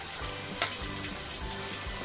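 Mushroom biryani ingredients fry in hot oil in a pot, with a constant close sizzle and occasional stirring scrapes.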